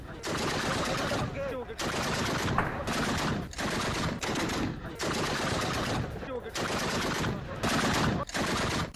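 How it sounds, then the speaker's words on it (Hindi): Heavy gunfire rings out in an attack on a Pakistani border checkpoint near Khost. Loud, rapid automatic bursts repeat again and again, separated by short gaps, with voices mixed in. "पाकिस्तानी चेकपोस्ट पर भीषण हमला, खोस्त बॉर्डर के पास तालिबान की गोलीबारी"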